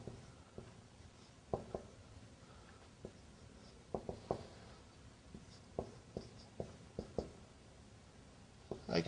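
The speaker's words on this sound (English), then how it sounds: "I'm writing the explanation." Handwriting an explanation for an Arabic lesson from Madina Book 3, with faint scratching strokes and soft taps of a pen on paper, irregular and quiet against a low background hiss.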